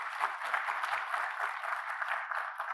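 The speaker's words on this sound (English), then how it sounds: "let's give him a round of applause" Audience applause at the Future Africa welcome event for the UNU REACH-AFRICA Hub, University of Pretoria, a steady dense clapping from a crowd that holds at an even level throughout.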